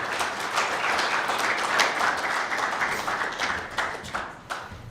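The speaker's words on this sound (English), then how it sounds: "Please give a round of applause" An audience at a basketball championship draw claps steadily in sustained applause, a dense crackle of many hands that thins slightly toward the end.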